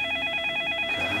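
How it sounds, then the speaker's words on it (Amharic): A telephone ringing with a steady electronic tone that pulses in quick even repeats, close and clear with no talk over it. "አንተ ስልክ ዝም በል"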